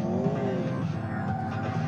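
A modded car drives in the video game GTA 4, its engine droning steadily with a rising tone and some tire noise throughout this short, loud stretch, without speech.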